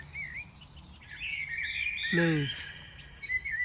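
Birds chirp and twitter in a park in New Jersey with trees and a football ground, a layered chorus of calls over a cool breeze, with a brief spoken word in the middle.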